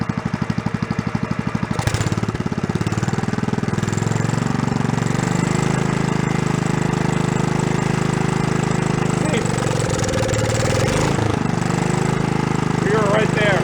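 An old Gravely walk-behind tractor engine, a barn find brought back to running, chugs unevenly for a couple of seconds, then revs up into a loud, steady, close drone that holds to the end.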